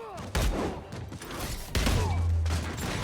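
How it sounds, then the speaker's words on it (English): Rocket launcher fire in Marvel's Spider-Man Remastered, two loud blasts with deep booming thumps and rushing debris, close and punchy amid game effects. "That's a rocket launcher."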